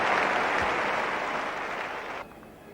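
A cricket crowd at the 1984 Australia v Pakistan Test applauds Chappell equalling the record, a dense, sustained wash of clapping that fades and drops off near the end.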